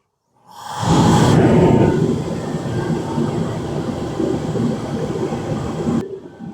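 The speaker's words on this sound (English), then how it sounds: "we're going to get this loud torpedo heater kicked on today." Loud torpedo heater blowing in a shop beside a 1969 Ford F100, starting with an ignition whoosh and settling into a steady roaring rumble that drops out suddenly near the end.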